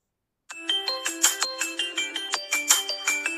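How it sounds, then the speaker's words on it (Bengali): A custom phone ringtone plays back after a brief silence, a bright repeating chime pattern of rapid metallic notes pulsing steadily and clearly for about three seconds, with no talk over it. "আপনার রিংটোন রেডি হয়ে যাবে। এবার দেখুন, প্লে করে শোনাচ্ছি।"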